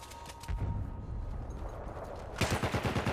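Artillery barrage in the video game Battlefield 1, heavy booming impacts and gunfire rumbling continuously, with a louder burst of rapid blasts near the end.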